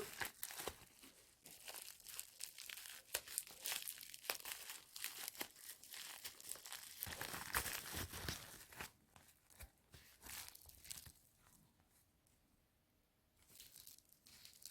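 Plastic packaging crinkles and rustles continuously up close as it is handled and unwrapped, fading to quiet briefly near the end.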